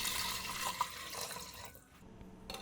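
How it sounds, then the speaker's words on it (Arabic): Water pours into a cooking pot in a home kitchen, a steady close splashing and trickling stream that tapers off near the end, with no talking. "غنضيف هكا واحد الكميه ديال الماء"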